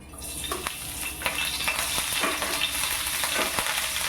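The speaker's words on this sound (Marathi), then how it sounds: "तेल गरम झालं तर मग सगळ्यात पहिले मी मिरची टाकते" Green chillies fry in hot oil in a home kitchen, giving a steady, close sizzle with scattered clinks and scrapes of stirring against the pan and no voices.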